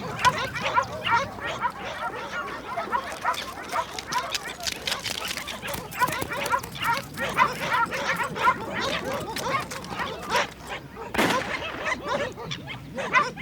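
Hunting dogs bark and yip excitedly on a puma's trail outdoors in the Andes, a rapid, overlapping chorus of near and mid-distance barks that runs throughout alongside narration.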